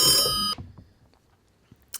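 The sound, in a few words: telephone ringing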